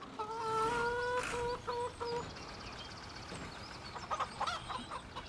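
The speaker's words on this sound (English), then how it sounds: "Chickens are doing really well." Farm chickens clucking: a near, drawn-out cackle with repeated clucks early on, then softer scattered clucks and chatter from several birds, with no talk.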